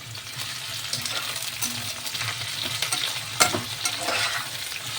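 Potatoes, onion and peas sizzle and fry in a wok for chowmein, with steady crackling, a spatula stirring and scraping throughout, and a sharp metallic clink partway through.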